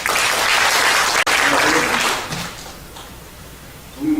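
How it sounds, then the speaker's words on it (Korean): Audience at a Korean border-region forum breaks into loud, dense applause to welcome a speaker, the clapping fading away after about two seconds before a voice begins. "박수로 맞이해 주시죠."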